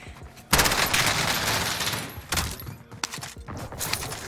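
Gunfire in the battle royale game Warzone, bursts of rapid automatic shots and a longer sustained volley, then scattered sharp reports nearby and loud, with no voices.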